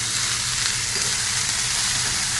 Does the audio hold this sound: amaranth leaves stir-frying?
yes